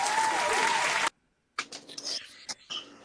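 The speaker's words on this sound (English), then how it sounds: "Clapping sound effect." A crowd-applause clapping sound effect plays during a tabletop roleplaying livestream: about a second of dense, loud clapping that cuts off abruptly, then a brief silence before voices talk.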